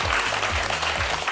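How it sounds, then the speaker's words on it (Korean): An indoor lecture audience claps continuously to welcome two physics lecturers onto the stage, a dense, even round of applause from a sizable crowd, with no voices over it. "오늘의 강연자 두 분 박수로 환영해 주십시오."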